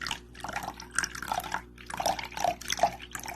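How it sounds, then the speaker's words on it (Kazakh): Oil and milk being poured into batter in a bowl, soft liquid splashes and drips in short bursts, close and fairly quiet, with no talking. "сұйық майымызды, сүтімізді құйып,"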